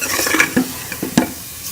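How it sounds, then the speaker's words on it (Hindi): Minced meat keema is stirred and fried in a pan, with a soft sizzle under several distinct scraping strokes of a utensil close by. "मैं ये कीमा डाल दूंगी और इसको हम कलर चेंज होने तक भून लेंगे"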